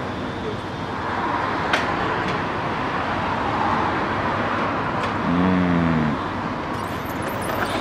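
A tiny steering-wheel work machine, a mini forklift with joystick-controlled attachments and blades, runs with a steady low engine drone throughout, close by, while a voice speaks briefly over it.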